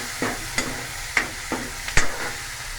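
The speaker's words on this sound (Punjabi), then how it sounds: "ਹੁਣ ਟਮਾਟਰ ਪਾਉਂਦੇ ਆ ਜੀ ਜਦ ਤੱਕ ਟਮਾਟਰ ਭੁੰਨ ਹੁੰਦਾ ਵਾ" Onion and tomato frying in a pan for moong and masoor dal, with a low steady sizzle and several sharp spatula scrapes and taps at an irregular pace, close by with no talking.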